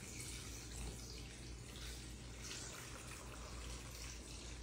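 Water pours steadily into a vase holding Orbeez, a continuous soft splashing rush at low volume with no voices.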